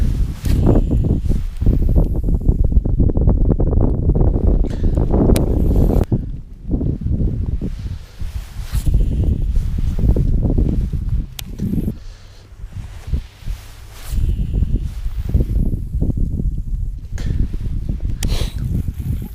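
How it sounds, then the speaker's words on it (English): Gusty wind buffets the microphone out on open water while bass fishing, a loud rushing roar that swells and dips in waves with brief lulls between gusts. "Okay, the wind is kicking up."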